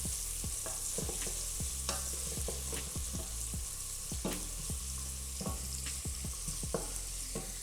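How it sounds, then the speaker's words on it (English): Onions frying in a pan give a constant hiss with repeated scraping stirs at a steady rhythm, close and fairly loud throughout. "And you can hear that hissing sound. That's what you want when you put your onions in"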